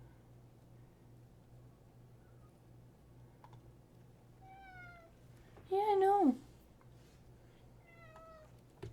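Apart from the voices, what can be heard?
cat meowing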